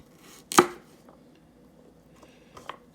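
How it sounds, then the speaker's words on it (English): Baby carrots being chopped with a knife: one sharp, loud chop on the board followed by a few fainter taps, with no talking. "Because they're easy to chop. Because they're tiny."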